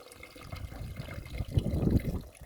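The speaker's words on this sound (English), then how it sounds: "I'm gonna just pour some water inside the blender." Water pours into a blender jar, a soft gurgling splash that swells toward the end, close by and fairly quiet.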